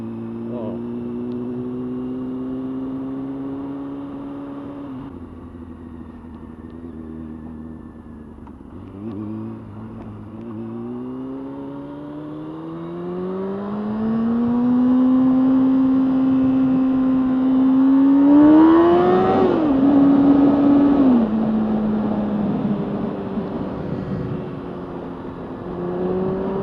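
A motorcycle accelerating hard enough to lift its front wheel, engine pitch climbing through the gears in long rising sweeps, peaking loudly near the end and then easing off, heard from the rider's position.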